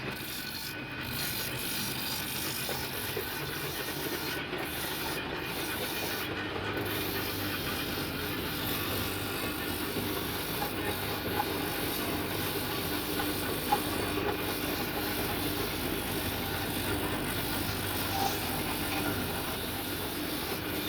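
A small bamboo satay-skewer sharpening machine whirs and rattles steadily for a long stretch, with a grinding mechanical hum and a few sharp clicks near the start.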